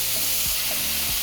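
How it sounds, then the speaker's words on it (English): Green chorizo sizzles on a hot comal as it is broken up, a bright continuous hiss with a couple of quick scraping strokes, close and brief, with no voices. "once it heats up, we're going to throw in our chorizo. And now we're just going to break it down"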